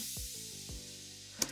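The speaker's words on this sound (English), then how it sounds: "One of them is a really big like EDM crash that I use all the time." A big EDM-style crash cymbal sample washes across the whole stretch, its bright noisy decay sustained over punchy kick drum thumps, tonal synth notes and a sharp hit near the end, all from a chill pop beat.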